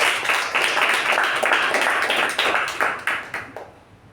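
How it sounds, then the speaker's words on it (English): Applause from a Toastmasters meeting audience: many hands clapping in a dense, steady patter with a few sharper claps standing out, fading toward the end. "A big round of applause to Toastmaster Shuba."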